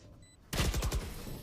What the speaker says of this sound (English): a headshot with the bulldog isn't gonna be quite enough